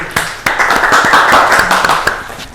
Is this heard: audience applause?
yes